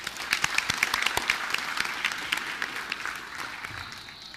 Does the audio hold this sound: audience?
yes